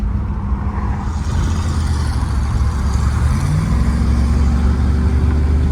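A Firebird's 305 V8 engine idles steadily with a deep, rumbling low drone that holds constant throughout, close and loud.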